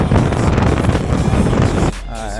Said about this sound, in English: A lot of wind. It's real windy right here.